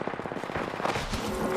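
Rapid automatic gunfire in the battle-royale shooter Apex Legends, a fast close burst of sharp shots in tight rhythm followed by heavier overlapping blasts.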